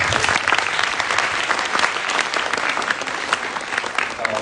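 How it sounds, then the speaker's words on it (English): An audience at a literary talk show applauds the departing panelists: full, loud, continuous clapping from many hands, unbroken from start to finish. "please give them a big round of applause"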